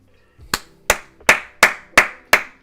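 Six sharp hand claps in a steady, evenly spaced rhythm, close and loud, each ringing briefly before the next.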